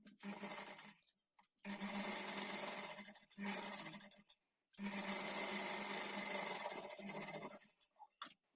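Sewing machine stitching a blouse lining at a half-inch seam, running in two long bursts of rapid, steady whirring and clatter separated by brief pauses and short stops, close and alone.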